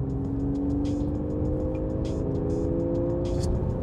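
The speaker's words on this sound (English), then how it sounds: "that sound from the naturally aspirated flat six is absolutely phenomenal" Naturally aspirated flat-six engine of a Porsche 911 991.1 Carrera humming steadily under load, a constant tonal drone with a rumbling base and light ticks, close and unbroken, no voices.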